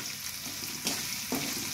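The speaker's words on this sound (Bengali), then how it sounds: "পালং শাকটা সুন্দর করে ভেজে নিতে হবে" Spinach frying in oil, a short close hiss of sizzling with a couple of soft stirring bumps, steady and moderately loud.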